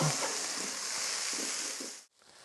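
Smoked paprika cooking in a pan with onions, a soft steady sizzle and hiss that cuts out abruptly near the end.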